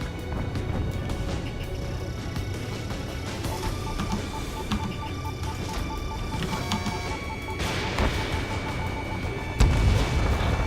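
Missile strikes and explosions destroying targets in the combat flight game Ace Combat 7 rumble continuously under a dense layer of game sound, with repeated booming impacts and a heavier blast near the end.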